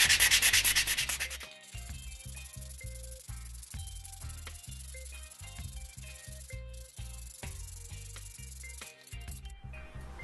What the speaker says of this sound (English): Now I'm going to sand by hand, gradually to finer grits of sandpaper until I reach 1200 grit.